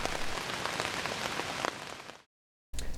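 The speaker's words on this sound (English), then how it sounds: "before the heavy rain started" Heavy rain at night at a campsite near Lake Erie, a loud, dense, hissing downpour that cuts to silence briefly, then resumes.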